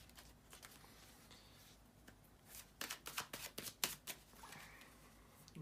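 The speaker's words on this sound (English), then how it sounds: "to shuffle the cards" Tarot cards shuffling at close range, a soft riffle at first, then a burst of rapid, crisp flutters and slaps in the middle before settling back to quiet handling.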